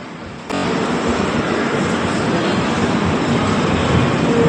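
A train rumbles steadily past a station platform, a loud broadband roar that starts abruptly half a second in and holds constant to the end, with no talk.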